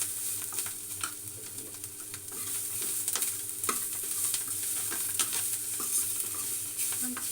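Garlic cloves fry in oil for a tomato chutney, giving a soft, continuous sizzle with scattered light crackles, fairly quiet and close.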